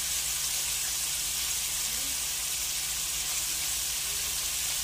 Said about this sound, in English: They're rather tiny, so it doesn't take very long for them to brown on each side.